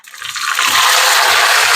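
Shallots dropped into a boiling pot of beef curry set off a loud, steady bubbling and hissing that swells within the first half second and then holds, with a few low thuds underneath.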